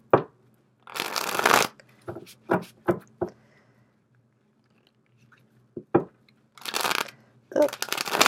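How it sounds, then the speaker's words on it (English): Tarot cards are shuffled by hand in several quick riffling bursts, close and crisp, separated by short pauses and softer handling taps. "sorry for all the shuffling."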